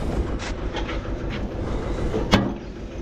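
A straw chopper machine rumbles and rattles steadily nearby, with a sharp metallic clack just before the end.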